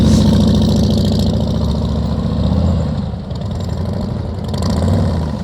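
A motorcycle engine at slow-speed riding practice as the rider works the throttle: a loud, close, continuous rumble that rises and dips slightly without pause.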